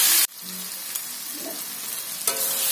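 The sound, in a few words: boneless chicken pieces frying with salt and turmeric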